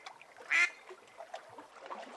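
A duck quacks once, a short loud call standing out over a quiet background of soft scattered noise during a children's story reading about a mother duck and little ducks.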